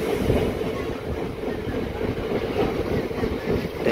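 A MEMU local train at Tennuru railway station on the Vijayawada–Machilipatnam line gives a steady, close rumble with a constant low wash of noise throughout, and no voices.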